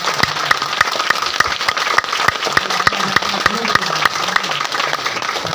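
An audience at a motivational talk claps together in a steady, regular beat, each clap sharp and evenly spaced, with a voice and background sound running underneath throughout.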